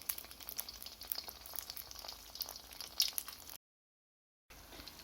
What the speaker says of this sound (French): Je vais maintenant passer à la friture à feu moyen.